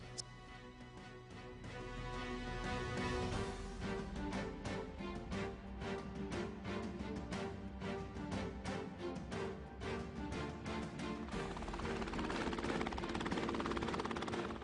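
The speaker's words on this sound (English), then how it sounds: "Such hovering exercises form the basis for flying a helicopter." A helicopter hovers during flight training, its rotor and engine producing a steady loud drone with a dense rhythmic beat that continues throughout.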